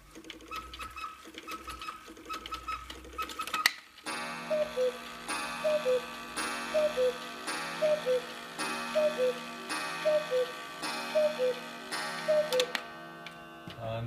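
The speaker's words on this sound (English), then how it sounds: "the cuckoo calls the hour" Antique Black Forest cuckoo and quail clock calling eight o'clock, a loud whirring strike then eight evenly spaced two-note cuckoo calls, each paired with a bellows puff, over steady pendulum ticking.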